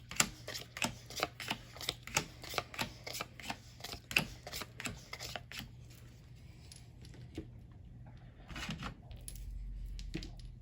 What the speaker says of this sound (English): let's go ahead and deal out these 3 piles